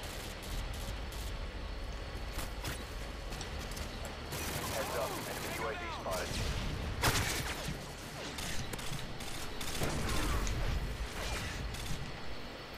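Bursts of rapid gunfire crackle in several volleys, with sharper shots and mechanical clatter, at moderate distance with no voices.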